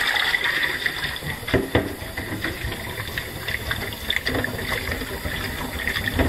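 Tap water runs steadily over salted cod as the salt is rinsed from its layers and crevices, a continuous splashing gush with small irregular spatters, close and fairly loud with no voices.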